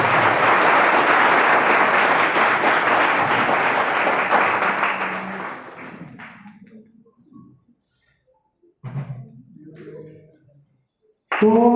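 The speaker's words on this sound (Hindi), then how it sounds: "उसके लिए एक जोरदार तालियां हो।" Loud, sustained applause from an audience honoring a company's CEO and director, filling the first five seconds and then fading, with scattered talk and voices following in a quieter room.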